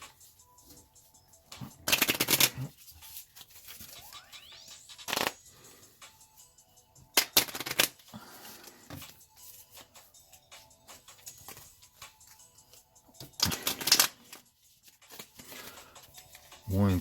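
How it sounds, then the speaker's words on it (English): A deck of cards for the board game WorldBreakers is shuffled by hand in several short, crisp riffling bursts separated by quiet pauses, close up. "Shuffle these up."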